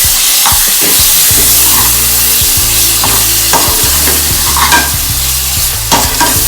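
Keema fries in a pan with a loud, close sizzle, and a spoon stirs it with a rhythmic run of scrapes and taps.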